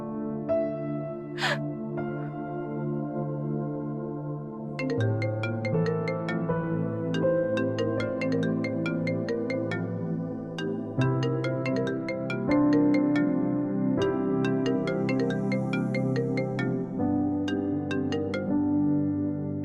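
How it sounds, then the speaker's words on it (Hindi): A mobile phone ringtone plays an unanswered melodic tune over and over, clear and fairly loud, with no one speaking. "निशा तुम मेरा फोन क्यों नहीं उठा रही?"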